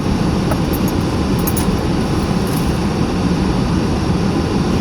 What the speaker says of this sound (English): I have to talk loud so that you can hear me over the vent